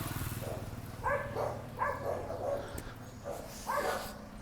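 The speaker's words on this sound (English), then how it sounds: "you have a dog here" A dog gives several short barks and yips at a moderate distance from the room, spaced out over a few seconds against a low background hum.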